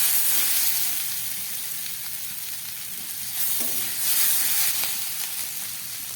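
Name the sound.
potatoes being sautéed in a pan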